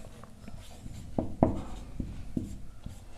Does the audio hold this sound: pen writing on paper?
yes